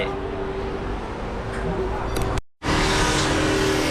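A car engine revs hard close by, a loud steady roar that cuts out abruptly for a moment before surging back.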